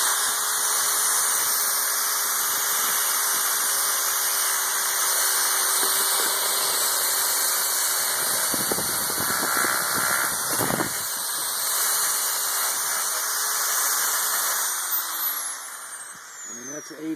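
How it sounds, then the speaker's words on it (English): A high-speed sander with 80 grit sandpaper grinds over a Fiberfix tape repair on metal, a loud steady whine and roar running throughout, with a rougher burst of grinding midway and a fading tail. "I'm going to show you how it sands with this this high-speed sander"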